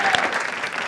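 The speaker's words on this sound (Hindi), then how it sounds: "एक बार जोरदार ताली for Apurva also." A brief burst of audience applause for a comedy show guest, dense and fairly loud clapping from a crowd, lasting under a second.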